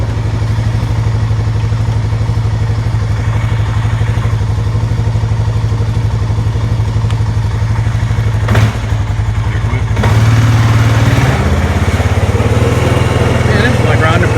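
A Honda Rubicon 500 ATV engine runs loudly and close with a steady, rough idle throb, then revs up and shifts pitch near the end, with voices heard over it.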